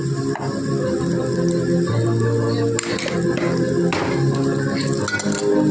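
Okra curry is stirred in a pan on low heat, with a spoon scraping and clinking against the metal over a steady sizzle and bubbling, close up, while a voice speaks faintly underneath.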